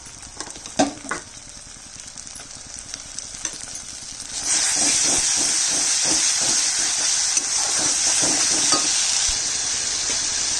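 Ground paste of onion, garlic, dried chilli and fried tomato with turmeric going into hot oil in a pan for pabda fish curry: scraping stirs at first, then a loud steady sizzle with rhythmic spoon strokes.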